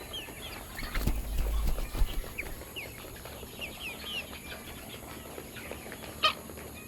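A flock of chickens clucks and chirps nearby, with short, scattered calls rising over a low background hum and one louder squawk near the end.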